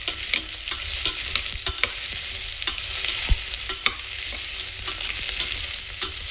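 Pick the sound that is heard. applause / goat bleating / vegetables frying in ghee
vegetables frying in ghee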